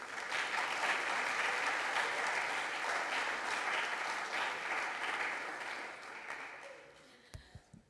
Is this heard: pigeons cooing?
no